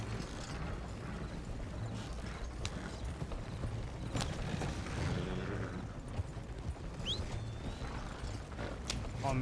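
Horse hooves clip-clop alongside a creaking wagon in the Red Dead Online video game, rhythmic and close, with mechanical rattles, a brief whinny and someone talking over it.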